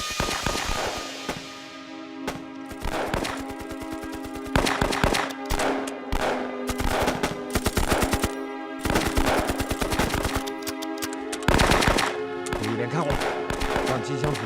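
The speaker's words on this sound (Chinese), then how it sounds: "机枪组拿机枪压制" Machine guns rattle in rapid bursts during a war film battle against Japanese troops, loud sharp volleys of gunfire repeating over a sustained tense musical drone, with scattered single shots between bursts.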